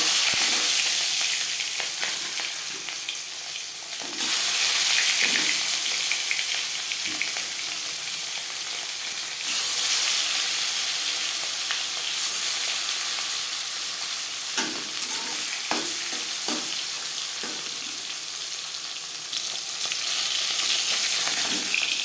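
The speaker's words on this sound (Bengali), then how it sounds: "তিন চামচ রিফাইন্ড অয়েল গরম করে নিয়েছি এবার দিয়ে দেবো লবণ হলুদ মেখে রাখা মাছ" Fish pieces rubbed with salt and turmeric fry in hot refined oil, giving a loud, steady close sizzle with scattered crackles and occasional scraping as the pieces are moved, with no talk.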